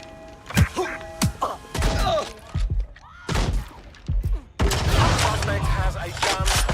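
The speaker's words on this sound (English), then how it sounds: "I'll cut you in half with this shotgun" Shotgun blasts in Watch Dogs Legion ring out as sharp, loud bursts amid shattering and thuds, with chaotic gunfire and crashes filling the later part.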